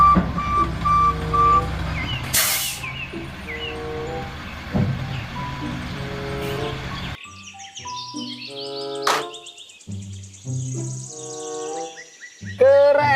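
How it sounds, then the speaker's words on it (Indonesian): A toy dump truck rumbles with noisy motor sounds before switching to a series of clear electronic beeping tones, close and moderately loud. "truck."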